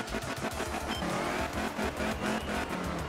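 A Group 2 rally car from 1971 in the video game Art of Rally roars along a stage, its engine revving and rising and falling, with brief tyre noise and no voices.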